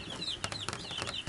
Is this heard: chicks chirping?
yes